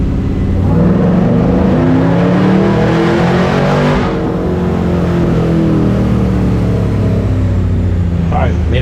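Supercharged LS3 V8 in a Chevy C10 stepside truck roars loud and steady through a dyno pull, a dense sustained engine drone with no break for nearly nine seconds.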